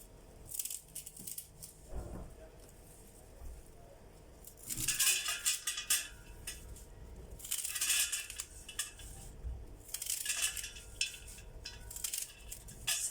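Rhythmic bursts of crisp cutting and rustling come in clusters as a knife chops mallow greens on a board, with quieter pauses between.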